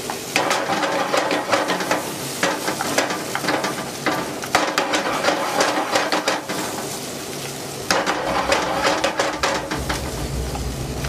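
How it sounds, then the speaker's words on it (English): Fresh hard butter stirred into a rich coq au vin sauce in a pan: continuous loud sizzling and frying with repeated scraping, clattering stirs of a utensil against the pan, no talking. "you're just going to add some fresh butter, hard butter, and just mount it in"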